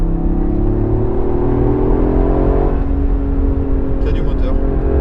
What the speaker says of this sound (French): Il y a du moteur.